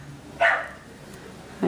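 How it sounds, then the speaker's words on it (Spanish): A neighbours' small dog barks twice from a short distance, one sharp bark near the start and another at the end, with quiet room tone between them. "mis vecinos tienen su perrito ahí y ladra todo el día."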